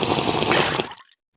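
Water in the Minecraft video game, a close, steady splashing pour like a running tap that lasts about a second and then cuts off abruptly into silence.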